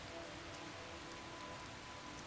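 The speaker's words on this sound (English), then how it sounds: "On this dreary, rainy day," Steady rain pours down on a dreary day in the Skyrim video game, a constant even hiss of drops on the ground with no other sounds and no talk.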